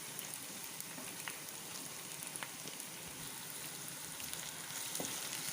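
Carrot and capsicum sautéing in a pan, a steady soft sizzle and crackle with occasional brief pops, moderately close and continuous with no voices.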